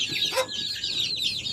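A hen clucks nearby in a small backyard chicken pen, giving a short run of throaty clucks and one sharper call, close and fairly loud.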